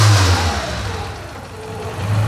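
A Lancia Delta HF turbo engine revs up and falls back in a short, loud, close burst, with its pop-off valve set fully open.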